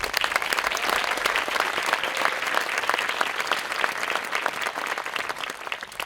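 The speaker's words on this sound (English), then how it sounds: "Let's give them a huge round of applause." A school graduation audience claps for the graduating students, dense and steady for several seconds, then thinning slightly toward the end.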